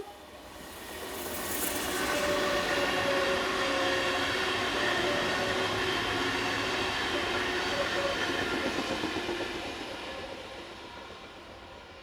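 DB unit 446113 runs west on a Braunschweig to Hannover passenger service, a smooth rumbling roar that swells as it nears, holds steady with faint rail clatter, then fades away.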